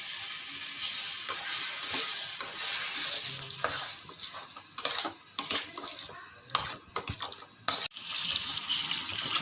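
Tamarind water is poured into a pan of simmering dried anchovy (nethili karuvadu) kuzhambu with brinjal. A hissing, splashing pour is followed by sizzling, then intermittent stirring and clatter, close and fairly quiet, with no voices.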